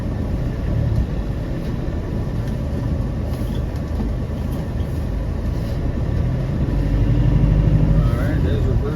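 A 1997 Land Rover Defender 90 with the 300Tdi diesel engine idles and rumbles steadily as it goes into reverse on a snowy road, a continuous low engine drone close by with faint creaks and crunches.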